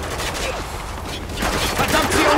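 Gunfire in the video game Spec Ops: The Line, with dense, loud bursts of shots that continue without a break and swell louder toward the end.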